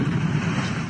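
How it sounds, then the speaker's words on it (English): A Learjet 55 medevac jet plummeting toward the ground over suburban Philadelphia, heard as a brief, loud, dense engine roar that stays steady and close for about a second. "A Medivac jet plummeting to the ground,"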